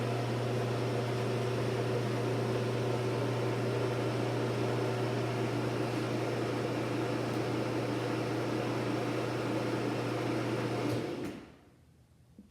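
A screw drive garage door opener motor runs with a steady, even mechanical hum for about eleven seconds, then winds down and stops, leaving near silence.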